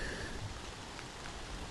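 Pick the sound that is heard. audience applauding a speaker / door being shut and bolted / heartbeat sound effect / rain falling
rain falling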